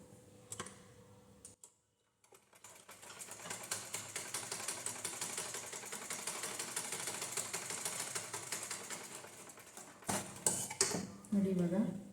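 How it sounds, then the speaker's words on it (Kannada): A sewing machine stitches the lining of a blouse in a long, steady run of rapid mechanical chatter with a softer start, a brief pause, and a few louder clunks near the end. "ಇವಾಗ ಇದನ್ನು ಕೂಡ ನಾನು ನೀಟಾಗಿ ಸ್ಟಿಚ್ ಮಾಡ್ಕೊಂಡ್ಬಿಡ್ತೀನಿ"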